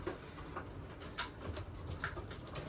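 A large racing pigeon in its coop gives soft, low cooing calls, several short repeated coos spaced irregularly and heard up close in a quiet enclosure, with faint rustles and no talking.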